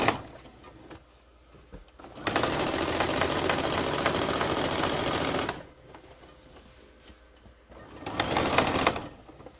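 A sewing machine stitches pillow fabric in two steady motor-driven bursts, a long run and then a shorter one, with quiet pauses between them and no talking.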